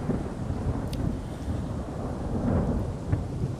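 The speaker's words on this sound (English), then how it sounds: "Bloody thunder will not let up." Continuous rumbling thunder rolls through a rainy storm in Fallout 4, a steady low roar with rain beneath and no voices, holding fairly even throughout.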